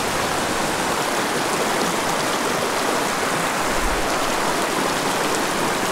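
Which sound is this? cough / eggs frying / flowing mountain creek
flowing mountain creek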